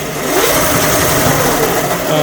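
Electric motor of a Kid Trax ride-on police drift car running in third gear, a loud, harsh buzzing whir with rattling, steady and close for a couple of seconds.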